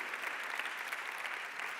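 Delegates at an ALDE Party Congress in Vienna give a short, even burst of applause, steady and fairly faint, with no voices over it.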